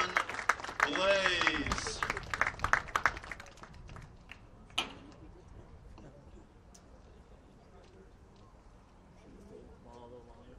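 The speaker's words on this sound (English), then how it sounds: "a round of applause" Crowd applause at a Nicholls vs SIU Edwardsville college baseball game honoring a former national runner-up team, a dense burst of clapping and cheers over the first few seconds that fades into quieter background noise with a voice speaking.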